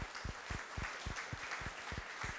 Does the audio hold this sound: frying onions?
no